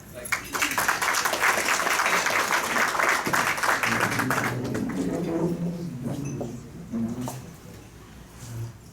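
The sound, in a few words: audience round of applause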